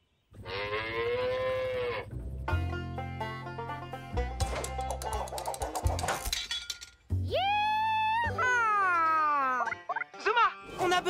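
A cow moos loudly several times, long drawn-out calls separated by clattering and clinking noises, in a children's cartoon.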